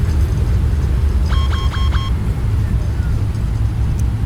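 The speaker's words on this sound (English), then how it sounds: "Reverser stroke." Boeing 777-200ER engines roar in reverse thrust during landing rollout in the X-Plane 12 flight simulator, a steady, loud low rumble filling the whole stretch with a brief tonal chirp partway through.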